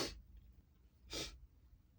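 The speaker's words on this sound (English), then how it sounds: "I hate sneezing in my car." Two quick sharp sneezes, the second about a second after the first, burst out faint inside a car, with soft breathing between them.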